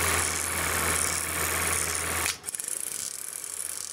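A freshly greased Super 8 projector with a lamp-cooling fan runs with a steady, loud mechanical hum, then shifts abruptly to a lighter, pulsing whir partway through.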